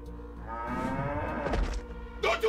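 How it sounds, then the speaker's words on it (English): A cow gives one long, low, drawn-out moo that swells and then fades, heard up close. "This is a whole cow!"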